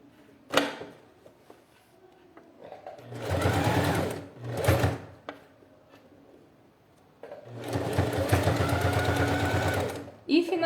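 A sewing machine stitches a clear plastic pouch in two sustained loud bursts, each a few seconds long, separated by quieter handling noises and short clicks.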